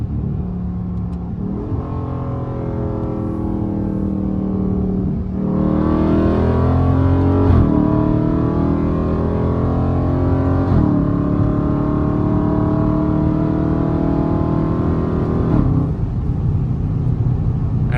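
A Dodge Scat Pack car accelerating hard on rural backroads, its engine roaring and climbing through several gears with brief dips at each shift, loud and continuous from inside the car.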